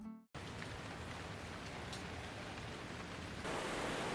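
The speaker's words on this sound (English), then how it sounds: "And that's when it started to rain." Steady rain patters on a campsite during solo dispersed car camping, a dense, even hiss that starts abruptly after a brief silence and swells a little louder near the end; no voices.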